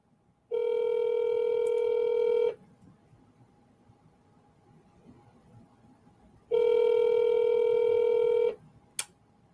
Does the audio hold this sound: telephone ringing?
yes